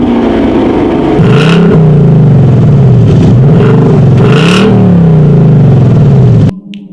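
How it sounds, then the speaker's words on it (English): A 2019 Chevrolet Camaro SS or 2019 Ford Mustang GT V8 revs loud and close through its active or dual-mode exhaust, with repeated rising and falling blips and a deep idle rumble between them, then stops abruptly. "the Mustang active exhaust is louder than the Camaro's dual mode exhaust"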